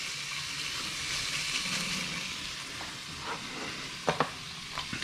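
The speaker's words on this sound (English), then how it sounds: "Listen to that sizzle." Iberico pork sizzles on a grill in a continuous bright hiss, close and steady, with a few sharp crackles near the end and no voices.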